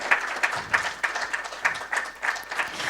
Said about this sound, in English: Those claps don't sound like happy people.